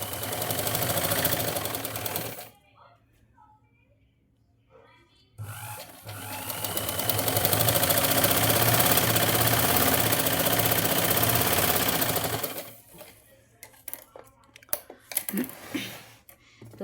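Sewing machine stitching tucks into a blouse, its motor whirring loud and steady in two long runs separated by a short pause, then fading to scattered clicks and handling noises at the end.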